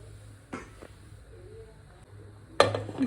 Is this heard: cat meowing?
no